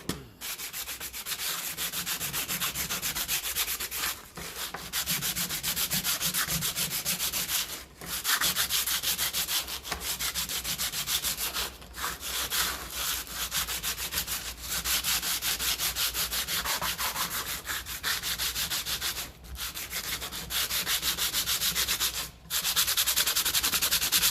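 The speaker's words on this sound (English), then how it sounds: "I'll just get some sandpaper. Just give them a bit of a quick rub." Sandpaper rubs briskly by hand over Massey Ferguson 35 tractor brake parts in continuous rasping strokes, with brief pauses every few seconds, close and steady throughout.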